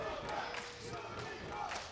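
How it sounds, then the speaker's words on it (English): Crowd at a League of Legends esports match between Team Roccat and Unicorns of Love, cheering and chanting with two rival cheers that do not line up, loud and continuous with voices mixed through it. "We've got conflicting cheers."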